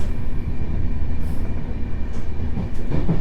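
An IC Śnieżka passenger train runs along with a steady rumbling roll and faint wheel clatter, some light squeals near the end, with no talk over it.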